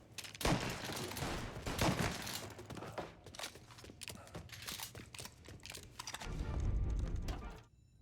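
Rapid gunfire from a shootout in Mafia: Definitive Edition crackles in dense, uneven bursts for several seconds, with a deeper rumble near the end and faint voices mixed in.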